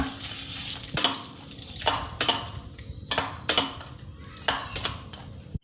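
Spoon stirring crushed curd mixed with fried mustard seasoning in a bowl for thayir vada, a steady series of scraping clinks about once a second, close and clear.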